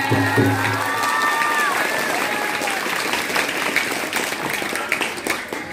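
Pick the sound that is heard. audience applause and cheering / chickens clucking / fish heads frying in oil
audience applause and cheering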